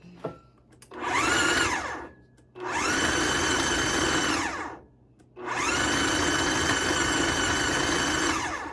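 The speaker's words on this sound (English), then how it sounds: "I have got this all in the food processor. And we are going to pulse it." A food processor pulses cracker dough for homemade cheese crackers in three loud, steady bursts of whirring motor, each lasting one to two seconds, with brief quiet gaps between them.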